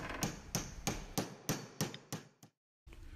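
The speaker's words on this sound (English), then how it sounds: "Using a proper size punch, remove the roll pin from the shifter lever." Sharp metallic hammer strikes on a punch drive a roll pin out of a Ford Mustang shifter lever, eight evenly spaced taps in a steady rhythm, close and clear, then a brief silence before the work noise resumes.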